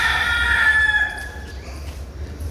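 A rooster crows once at an animal shelter in Pragpar, Kutch: a loud, near, drawn-out call that fades after about a second, leaving a low steady rumble in the background.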